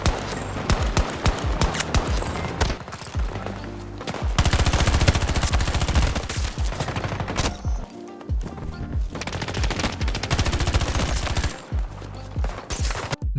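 Rapid video game gunfire rattles in loud, dense automatic bursts almost nonstop, with a few short gaps between volleys and no talking.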